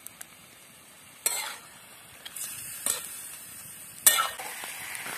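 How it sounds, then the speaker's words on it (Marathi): Fish pieces fry in oil in a pan with turmeric, a soft continuous sizzle punctuated by three or four sharper stirring scrapes and clinks. "तेलामध्येच आपल्याला 4 ते 5 मिनिटं तळून घ्यायचे आहेत मासे"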